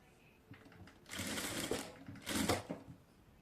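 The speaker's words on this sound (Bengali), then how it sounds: "এইখান দিয়ে এখন আমি সেলাই করে আটকিয়ে নেব" A sewing machine stitches designer pants fabric in two rapid bursts, the first about half a second and the second about a second long, close and fairly loud against a quiet room.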